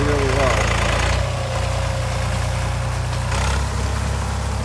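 A tractor engine idles steadily during orchard grass raking and baling, with a low, throbbing rumble and mechanical chugging, close and continuous, with slight shifts in pitch along the way.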